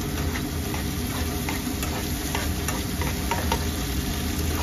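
Small fish frying in plenty of hot oil with steady, close sizzling throughout, interrupted by scattered scraping ticks as a utensil stirs the pan.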